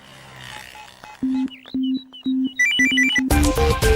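Telephone ringing in a Tamil film scene: a repeating series of electronic tones in evenly spaced pulses, then a rising jumble of higher beeping notes and a louder musical burst at the end.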